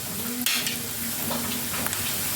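Peanuts frying in a pan give a steady, close sizzle, with a few faint clinks of a utensil against the metal and no talking.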